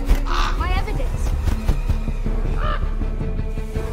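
One-eyed crow in the series Wednesday, season 2, giving a couple of harsh caws under a narrator's voice and a dense background score.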